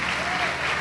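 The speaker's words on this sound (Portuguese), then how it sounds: "Vamos aplaudir o Senhor Jesus." A brief burst of clapping from a church congregation during a sermon, dense and continuous.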